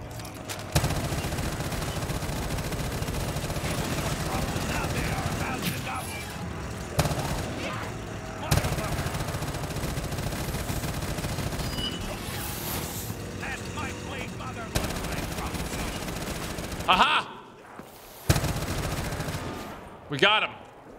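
Repeated bursts of gunfire from a zombies-mode video game, dense and continuous with sharp peaks, running under spoken commentary throughout.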